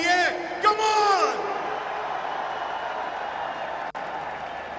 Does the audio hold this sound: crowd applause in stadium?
yes